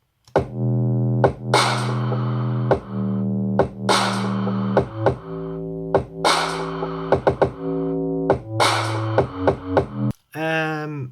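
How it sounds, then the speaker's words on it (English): Deep, saturated 808-style sub bass notes pulse in a steady rhythm, each hit punched by a kick drum, loud and up front. "it sounds like an 808 with the kicks combined"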